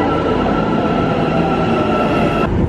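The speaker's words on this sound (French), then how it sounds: "je vais tester le métro d'Istanbul" Interior of an Istanbul metro train while riding, a dense continuous rumble of wheels on rails with a faint steady whine and light clatter, close and loud throughout.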